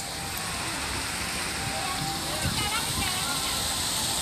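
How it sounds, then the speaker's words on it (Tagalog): A waterfall fountain in Nanlian Garden rushes with a loud, continuous hiss of falling water that never lets up, while people talk over it. "Waterfalls fountain."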